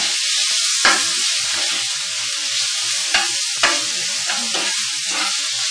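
Seasoned beef sizzles steadily in a hot pan, with a few sharp scraping stirs and clatters of a utensil punctuating the continuous frying hiss, close and fairly loud.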